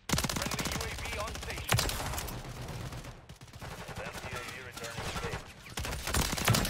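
Sustained automatic gunfire in a Call of Duty Modern Warfare III match, with dense rapid bursts that barely pause, loud and close, and a few heavier shots standing out.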